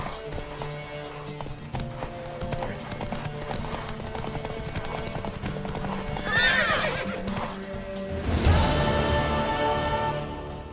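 A mare's rapid hooves clip-clop in a steady galloping rhythm in the video game The Witcher 3: Wild Hunt, and a horse whinnies loudly twice near the end.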